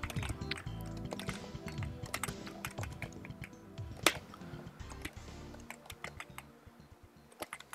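Rapid, steady clatter of computer keyboard keys during a PS1 fighting-game session, close and fairly quiet, with occasional sharper key hits and a little background talk.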